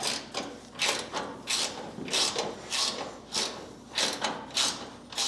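A ratchet tightens bolts on the front end of a 1946 Pontiac, with steady repeated clicking strokes close by in a regular back-and-forth rhythm and no talk over it.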